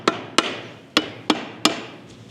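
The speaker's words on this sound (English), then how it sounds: "Well, maybe I'll hammer it," Hammer tapping the glass seal of a Scout roll-up window, five sharp, close knocks at uneven intervals with short ringing decays, followed by a fainter sixth tap.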